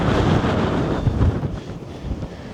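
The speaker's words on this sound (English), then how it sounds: "It's about 25 degrees and 30-mile-an-hour winds." Strong outdoor wind buffets the microphone beside a flooded backyard pond in about 30-mile-an-hour gusts, a loud, continuous rumbling roar with no one speaking.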